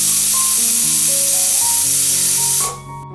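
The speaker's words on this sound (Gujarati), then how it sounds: "2 વિસલ થઈ ગઈ છે અને પ્રેશર કુકરમાંથી બધું પ્રેશર પણ નીકળી ગયું છે" A pressure cooker holding green pigeon peas on a medium gas flame vents loudly, a forceful continuous steam hiss with faint tonal whistling underneath, then drops sharply away near the end.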